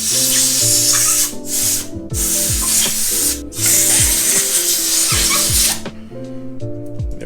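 A loud, steady hiss of compressed air blowing across the clutch-side rearset parts of a 2018 Yamaha R3 motorcycle, running in long bursts with two brief gaps and easing off near the end over background music.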